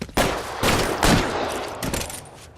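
Gunfire cracks in a police shootout in the video game LA Noire, several loud sharp shots in quick succession with echoing tails, then quieter trailing noise.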